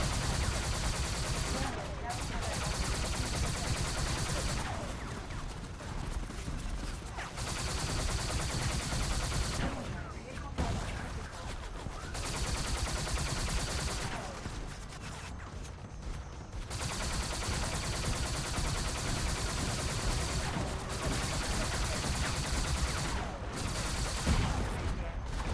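Enemies in Spy Hunter 2 keep up near-constant gunfire, dense rattling bursts running almost without pause, broken by a few short gaps, with a voice talking over the top.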